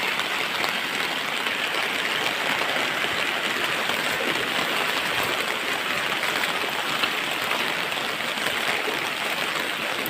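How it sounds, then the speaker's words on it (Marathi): River water runs over a road in heavy rain in Konkan, making a steady broadband rush that stays dense and even throughout, with no voices. "इथं आपली नदी आहे आणि इथून पाणी याच्यावर जातं रोडवरून"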